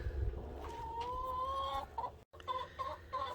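Chickens cluck and croon nearby in short, drawn-out calls, several birds trading sounds over a quiet background.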